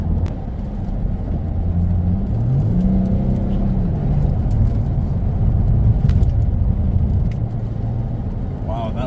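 2011 Mercedes-Benz C350 (W204) driving through a roundabout, a steady interior engine drone and road rumble with a brief rise in engine pitch, loud and continuous.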